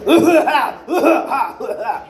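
A voice imitates coughing, several harsh hacking bursts in quick succession with brief pauses, close and fairly loud.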